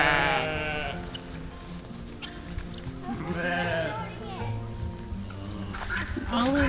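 Sheep due to lamb soon bleat in wavering, nasal calls over a busy background, several overlapping bleats across the clip, with light chatter mixed in.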